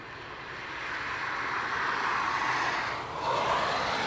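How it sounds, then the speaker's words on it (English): A Delta Boeing 767-400 jet lands at Dublin Airport, its engines a steady broad roar that swells slightly near the end, heard from a moderate distance with no voices. "Delta 767-400."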